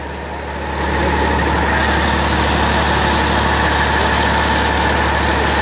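A tractor engine runs steadily while pulling a five-ton water tanker fitted with a centrifugal pump, a loud continuous rumble that swells after the first second and then holds even and close.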